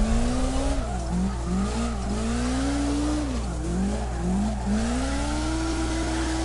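A Nissan S13 in CarX Drift Racing Online slams its rev limiter mid-drift, the engine note bouncing and wavering continuously, with tire squeal layered in, loud and steady throughout.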